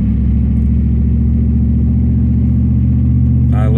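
A car driving up behind on a road near a covered bridge, its engine a loud, steady low rumble close by, with a brief higher noise at the very end.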